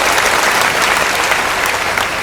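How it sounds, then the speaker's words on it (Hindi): A full audience at a Hindi poetry gathering bursts into loud, continuous clapping, a dense wash of many hands filling the space without pause. "आगे से पीछे तक के लोग एक बार तालियां बजाकर बताएं"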